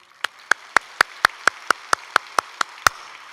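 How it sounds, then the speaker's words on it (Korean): A church congregation at a Cheonan city evangelism rally claps in slow unison, about a dozen sharp, evenly spaced claps ringing out clearly with no talk over them. "박수 한번 쳐"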